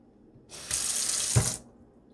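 Water running from a kitchen tap for about a second, a steady hiss and splash that starts and stops cleanly in a quiet room.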